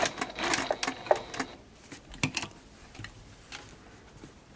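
A sewing machine stitches a fabric channel on a face mask. The motor whirs in short runs and stops, with ticking needle strokes that fade toward the end.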